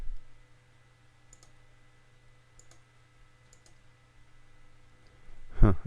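Mouse clicks in Photoshop sound as a few faint, sharp ticks spaced across a quiet room hum, followed by a louder thump near the end.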